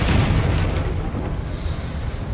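A fiery Confringo spell explosion in the video game Hogwarts Legacy, a loud rumbling blast that roars at once and then trails off into a long, noisy fiery hiss.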